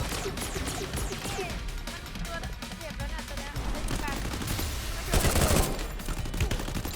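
Gunfire crackles in the mobile shooter Free Fire as dense, overlapping bursts of shots over busy game sound. A louder burst comes near the end, and a player talks over the action.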